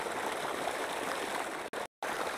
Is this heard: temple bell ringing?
no